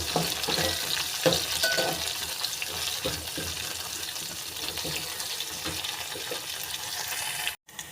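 Onions and curry leaves frying in a pan for tomato charu, giving a steady, close sizzle with scattered stirring scrapes that runs almost unbroken before dropping out briefly near the end.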